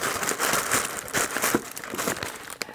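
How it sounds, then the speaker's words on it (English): Tissue paper crinkles and rustles as items are tucked in behind it, a continuous close papery crackle with a few sharper crumples and no talk. "I'm gonna sort of tuck that in behind the tissue paper."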